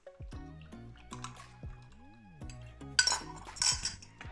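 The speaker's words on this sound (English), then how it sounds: "So after that I'm adding inside to the pot." Tomato paste sauce with salt, olive oil and hot water going into a pot of stuffed green peppers, giving soft drips and splashes mixed with clinks of a spoon or utensil against the metal pot, close and fairly quiet.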